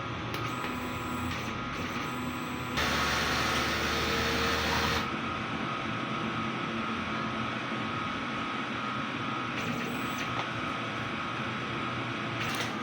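DTF printer running a print head cleaning cycle: a steady mechanical hum with a louder broadband whir for about two seconds in the middle, then back to a continuous low drone.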